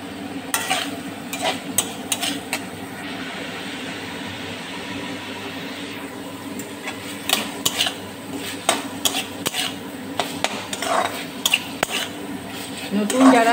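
Fried papaya pieces are stirred in a cooking pan for a curry with sour yogurt, with repeated scraping and clinking of a utensil against the pan over a faint sizzle.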